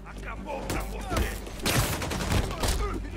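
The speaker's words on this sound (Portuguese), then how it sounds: "Foi seu amiguinho atirando em vocês mesmo." Gunfire in Spider-Man Remastered, with bursts of shots and impacts in an action scene, loud and busy, while dubbed voices talk over it.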